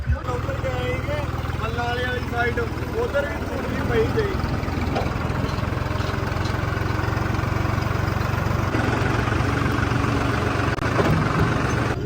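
A JCB excavator's heavy diesel engine runs steadily at idle on a river embankment, a continuous low rumble close by, with some voices and outdoor noise over it.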